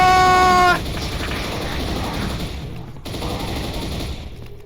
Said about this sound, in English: That's a really satisfying chain gun.